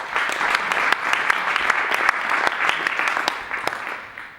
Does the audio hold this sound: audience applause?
yes